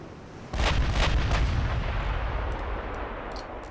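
Naval guns fire a salvo in the warship game Ultimate Admiral Dreadnoughts: a loud, sustained broadband boom with several sharp cracking bursts rolling over each other, then slowly fading, with no talk.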